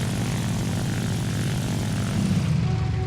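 A propeller aircraft engine in War Thunder, running hot, drones loud and steady with a constant low roar and a slight swell near the end, with no voices.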